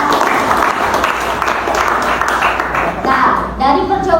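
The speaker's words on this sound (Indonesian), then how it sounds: "berikan tepuk tangan kepada Bima" Applause from a classroom of students at a physics lesson on capacitors, a steady wash of clapping lasting about four seconds, fairly close and dense, with voices mixed in near the end.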